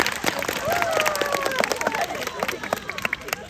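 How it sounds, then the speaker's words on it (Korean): Audience at a Muju mountain film festival talk breaking into brisk, scattered applause, the clapping close and fairly quick, mixed with some murmuring for a few seconds. "한번 박수를 크게 한번"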